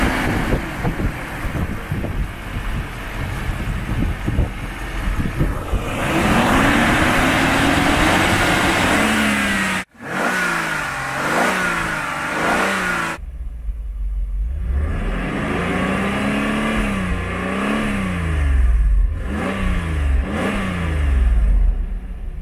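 A Mercedes M119 5-litre double-overhead-cam V8 revs repeatedly, with rising and falling surges and loud sweeping passes through the gears, heard close with wind buffeting the microphone and no speech.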